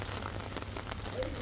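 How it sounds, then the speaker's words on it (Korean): Heavy rain pours down steadily in Yantai, China, making a soft, dense patter on surfaces over a brief stretch with no voices. "비가 너무 많이 오는데?"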